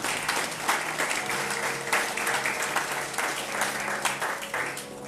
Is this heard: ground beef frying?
no